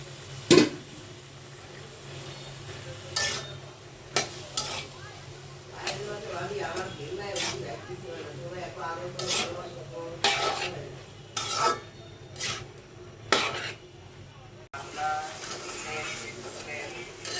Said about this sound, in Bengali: নুডলস রান্না করতেছি একদম কালারফুল